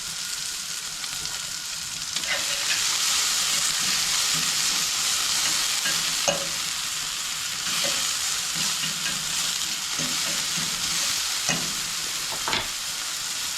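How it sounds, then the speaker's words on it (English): Bacon frying in a pan for a breakfast burrito gives a steady, close sizzle that holds throughout, broken by a few sharp clicks and taps from the pan or utensil. "It takes a while to get the bacon cooked."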